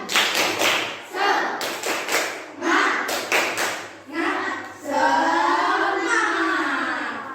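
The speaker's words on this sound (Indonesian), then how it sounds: "Oke, tepuk semangat dulu satu kali lagi" Schoolchildren in an Indonesian primary classroom perform a rhythmic spirit clap, several bursts of sharp group claps in a repeating pattern, followed by children chanting and voices carrying over the claps.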